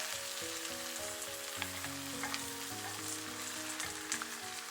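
Napa cabbage and fried bean curd sizzle steadily in a hot wok, a loud continuous frying hiss with faint scraping from the stirring, and no voices.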